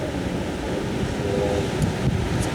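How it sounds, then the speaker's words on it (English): Water churns and rushes beneath a cruise ship as the vessel turns around, a steady broad wash of surf mixed with wind buffeting the microphone, with no voices. "the water's being stirred up because we're turning the boat around"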